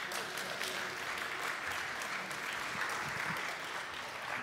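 Conference audience applauding in a steady, dense patter for several seconds, moderately quiet and sustained, with faint voices under the clapping.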